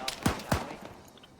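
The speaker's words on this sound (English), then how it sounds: "They are now hostile because gunshots." Two sharp gunshots crack about a quarter second apart in a survival video game, fairly quiet, followed by a brief faint tail of softer noise.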